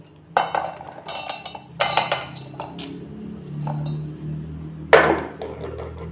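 A metal utensil clinks and scrapes against a pot while lemon rice is mixed with gobi in a home kitchen. There are several sharp clatters in irregular bursts, close and fairly loud, with a low background hum.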